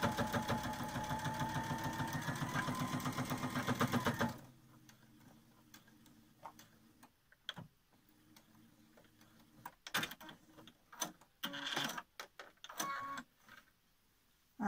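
A sewing machine stitches a fabric mask in a rapid, even mechanical whir for about four seconds, then stops, leaving quiet room sound with scattered clicks and handling noises.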